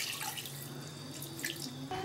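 Water pours steadily into an orange and lemon juice mixture with sugar, making a close, continuous splashing trickle for about two seconds, with no voices.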